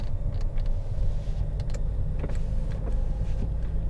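Power windows whir up and down in a 2015 Vauxhall Insignia 2.0 CDTi SE hatchback, a close electric motor hum with small clicks over the idling diesel engine.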